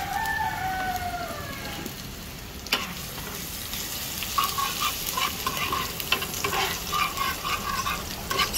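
Garlic and onion sauté in a pan with a constant close sizzle, broken by frequent scrapes and clatters of a spatula being stirred. A rooster crows faintly somewhere in the background.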